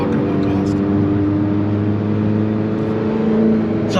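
A 2016 Alfa Romeo 4C engine drones loudly and steadily, a sustained low rumble with a slight swell near the end.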